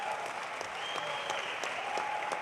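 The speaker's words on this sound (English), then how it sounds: "Can you give a round of applause on that?" Sustained audience applause at a youth empowerment week event, a steady dense wash of clapping from a crowd with a few faint voice-like tones over it, no clear speech.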